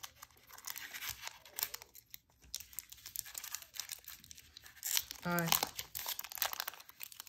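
Crinkly plastic Pokémon Silver Tempest booster pack wrappers being torn open and crumpled up close, with bursts of rustling and a brief spoken word.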